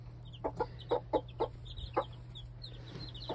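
A hen clucks in short, soft bursts beside her new clutch of chicks, about seven low clucks in an uneven rhythm with faint chick peeps over a steady background hum.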